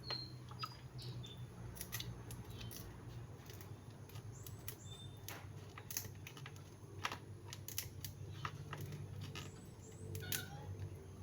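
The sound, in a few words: dull scissors cutting a milkfish tail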